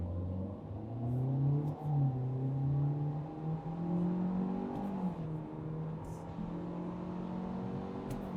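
2025 Kia K4 with a 2-liter engine in sport mode, manually shifted, accelerating to highway speed; the engine note climbs steadily through several gears with brief dips at each shift, heard from inside the cabin.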